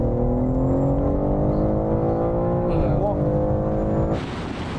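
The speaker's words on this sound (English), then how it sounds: "now we're going to have a rolling race from 50 miles an hour" An Audi RS5, BMW M4 and Mercedes-AMG C63 S accelerate hard side by side in a rolling drag race from 50 mph, a loud rising engine roar that shifts pitch mid-run, with people talking over it.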